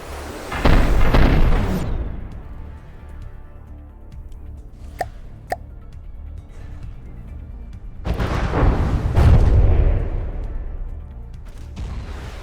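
Heavy booming explosions and launch blasts from missiles in From the Depths, two big rumbling bursts at the start and later, with a pair of sharp clicks and a low steady drone between.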